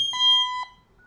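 A loud, piercing electronic security alarm sounder on its temporal fire pattern sounds as one steady pulse of about half a second, then cuts off into near silence.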